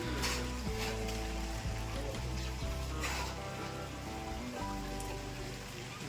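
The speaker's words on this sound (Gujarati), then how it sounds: "તો વરસાદ ચાલુ છે, અત્યારે વરસાદ ચાલુ છે." Steady rain falls on surfaces at a hilltop temple, a dense close patter of drops that holds throughout with no voices.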